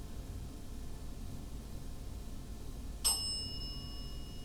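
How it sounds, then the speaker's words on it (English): A single bright bell strike rings out once over a low background hum, its metallic tone lingering and fading for a second or so. "I love this bell. It's so cool."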